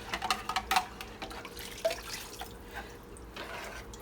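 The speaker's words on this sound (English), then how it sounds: "that's just the water I'm going to add now" Water is added to a nearly empty jar of pasta sauce, with close, uneven dripping and splashing that is strongest in the first second and then turns into a softer trickle.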